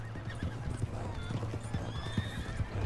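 A horse in Red Dead Redemption 2 gallops with rapid rhythmic hoofbeats and lets out neighs and whinnies over them, close and fairly loud with steady game ambience underneath.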